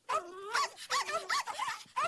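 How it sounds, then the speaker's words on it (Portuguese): A dog barks and yelps in a quick series of short, close, loud barks with whiny pitched tones and brief gaps between them, heard alone without talk. "cachorro"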